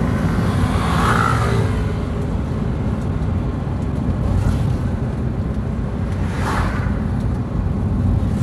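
A car cruising along the central Sumatra highway near Gelumbang at night, a steady loud interior rumble of engine and road roar with wind noise and occasional faint passing swells, no voices.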